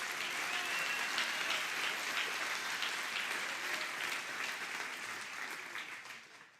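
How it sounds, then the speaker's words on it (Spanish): A church congregation applauds, a broad, even wash of clapping heard at a moderate distance that carries steadily before fading out at the end. "O dale un aplauso a Dios."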